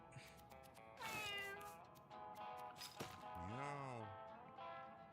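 A cat meows in the video game Mewgenics, several loud, drawn-out calls in a row with a long wavering one near the end, over a busy game soundtrack and clattering effects.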